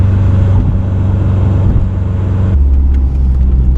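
A supercharged Subaru engine with a DIY slash cut pulley pulls under about six pounds of boost at partial throttle, a loud steady droning roar from inside the car that drops abruptly to a lower rumble near the end.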